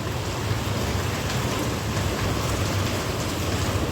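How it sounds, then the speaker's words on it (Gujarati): Heavy rain pours down in a steady, dense roar with no breaks, loud and close. "એટલો બધો વરસાદ આવે છે"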